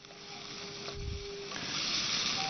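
Dried red chili paste sizzles steadily in a hot pan as it is sautéed, a continuous close hiss that grows slightly louder toward the end, with no talking.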